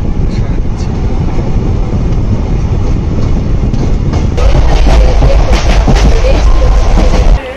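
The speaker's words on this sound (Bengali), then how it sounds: "আমাদের ট্রেন এইমাত্র চলে এসেছে বহরমপুর স্টেশনে" A train pulling into Berhampore station, loud continuous rumble of carriages with rattling wheel noise that swells and grows harsher partway through, then cuts off.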